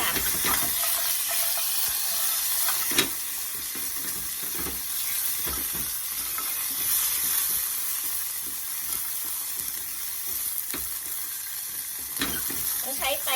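Whole spices and coriander root dry-toasting in a pan for a Thai pork palo braise, giving a steady hiss with scraping stirs throughout and occasional louder clacks.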